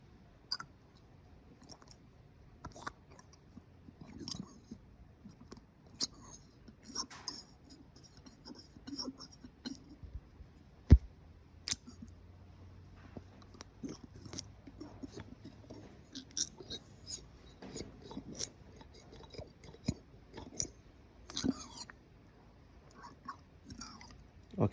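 An old Toyota 1HZ diesel vacuum pump is turned by hand on the bench. It gives quiet, scattered clicks, scrapes and gritty crunches at irregular intervals, close up against a near-silent background.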